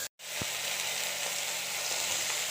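Onion, tomato and green chilli sizzle hard in two spoons of oil with popped mustard seeds for a ridge gourd chutney, a loud close crackling hiss that starts abruptly after a brief silence and carries on steadily with no talking.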